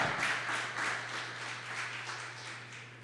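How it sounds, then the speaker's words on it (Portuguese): A church congregation claps along in a fairly quiet, steady patter that stays even for a few seconds, with a low hum beneath and no speech. "Você pode aplaudir ao Senhor?"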